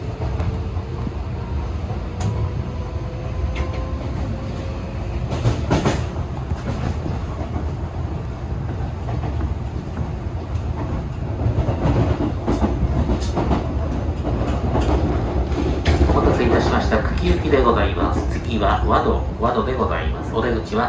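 Tokyo Metro 18000 series train running on rails as an express to Kuki on Tobu through service, a steady rumble with faint rail clatter throughout, under Japanese onboard announcements that swell in the final seconds.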